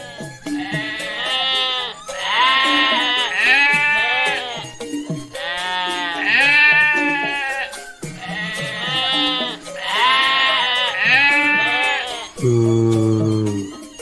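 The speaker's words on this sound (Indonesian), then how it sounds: "Di sini banyak kambing" Repeated loud goat bleats at a livestock market where goats are sold for sacrifice, wavering calls following one another closely across the whole stretch, with a low sustained tone near the end.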